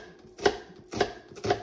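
Knife finely chopping onions on a board for homemade black pudding, three distinct crisp cuts spaced about half a second apart, close and fairly quiet with nothing else around them.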